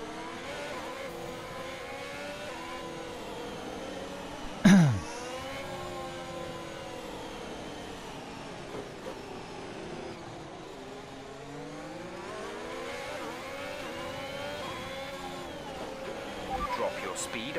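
A race car engine drones and revs in long rising and falling sweeps during a race, its pitch climbing and dropping between gear changes, with a sharp knock partway through and a voice talking over it at times.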